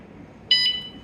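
A bicycle alarm with brake light and turn signals gives one short, high electronic beep as it arms, a clean bright tone that starts abruptly over quiet background and fades after about a quarter second.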